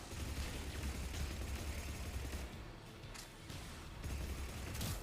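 Blood Pact Punisher firing in Mass Effect multiplayer, a weapon pairing SMG bursts with a pistol shot, heard as dense continuous rapid gunfire with a short lull midway before resuming, loud and close with no talk.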